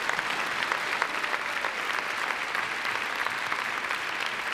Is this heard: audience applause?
yes